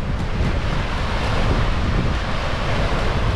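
Strong wind, around 13 to 15 knots, roars steadily across the microphone while a sailboat under full sail crosses the Saint Lucia channel, with a dense broadband rush and low buffeting.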